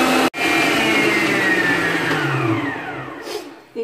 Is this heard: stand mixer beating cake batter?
yes